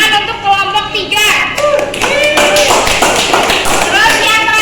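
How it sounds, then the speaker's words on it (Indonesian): Students in a classroom break into loud, dense applause for group 3. Many hands clap close by along with a few thumps, and young voices call out partway through. "Tepuk tangan untuk kelompok 3"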